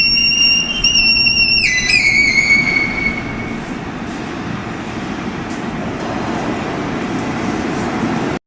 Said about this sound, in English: he begins to play with the noise of the train as some sort of culminating performance